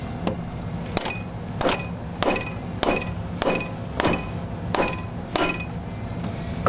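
A hammer taps a Ford 7.3 diesel injector down into its seat on a 1997 F-250, about ten sharp metallic clinks at a steady, roughly half-second rhythm, close and ringing over low background noise.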